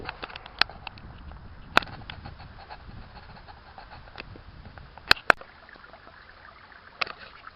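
Water flowing down a creek over bedrock at a gold-prospecting spot, a steady close rush and babble with a few sharp clicks and knocks scattered through it.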